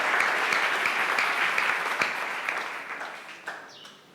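A church congregation claps and cheers in sustained, dense applause that stays loud and steady, then thins out slightly toward the end.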